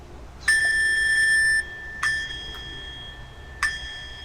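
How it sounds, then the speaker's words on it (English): A small Buddha singing bowl is struck three times, each chime ringing out clear and bright, then decaying before the next strike; the strikes are spaced a second or more apart and sound close and alone. "if you want to chime your little Buddha bowl"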